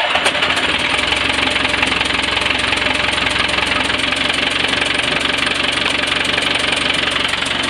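A boat's inboard engine runs loud and close with its cover panels removed, a steady, dense idle roar with a knocking, vibrating texture and no pauses throughout.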